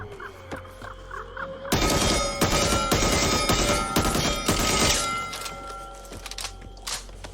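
Loud, dense bursts of rapid automatic gunfire from the mom gun in Back 4 Blood's October 2022 Halloween update, lasting about three seconds, with quieter game ambience before and after and no talk.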